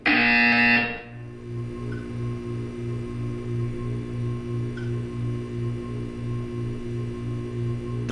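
A loud electronic buzzer in Portal 2 blares for about a second, then stops, leaving a low pulsing hum in the background.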